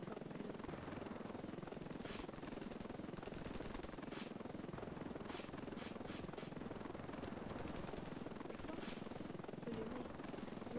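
Helicopter in the video game Ravenfield, a steady loud rotor drone with bursts of gunfire cracking over it in quick irregular volleys.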